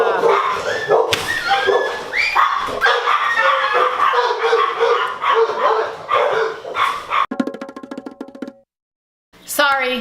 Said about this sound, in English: Sorry, that was my dogs.